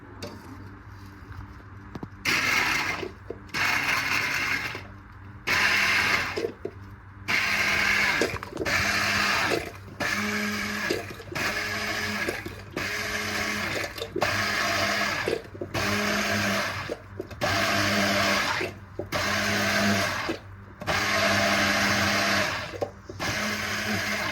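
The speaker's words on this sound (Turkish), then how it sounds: "Blender'dan sarımsaklarını ezeceğim." A blender crushing garlic runs in repeated loud pulses separated by short pauses, its motor whirring and grinding steadily through each burst.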